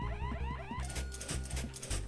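A video game alarm in Horace cycles in rapid sweeping whoops, then gives way to a burst of bright, noisy electronic tones over a steady rhythmic backing.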